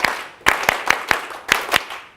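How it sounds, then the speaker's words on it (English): A group clapping in unison to call for attention, about eight sharp claps in an uneven rhythm, loud and close, with no talk. "clapping is the best way to bring them back to attention"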